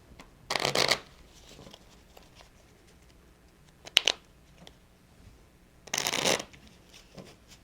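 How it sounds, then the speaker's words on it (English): A new deck of playing cards is shuffled in three separate bursts, two longer riffles and one quick short one between them, close and fairly clear over a quiet background. "I'm going to shuffle them."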